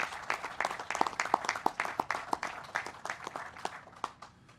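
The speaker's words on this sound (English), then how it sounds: "Let's give all these folks a big round of applause" Audience applauding public safety officers at a Georgia state budget signing, crisp individual claps standing out over a softer wash of hands, moderately near and tapering off toward the end.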